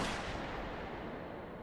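Gunfire from an anime episode, a single loud blast that fills the short moment and fades as a rumbling tail, with no voices over it.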